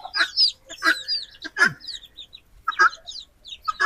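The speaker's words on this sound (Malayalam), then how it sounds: "അപ്പോൾ നമ്മുടെ കോഴിക്കുട്ടികൾ ഇവിടെ ഉണ്ട് കേട്ടോ" Chicks chirp and cluck in short bursts close by, a scattered series of high peeps with quiet gaps between.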